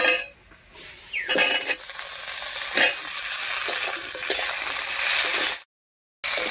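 Cut potatoes go into a pan of lightly fried onions, giving a close, steady sizzle. Metal spoon scrapes and clinks against the pan come at intervals, then the sound drops to brief silence near the end.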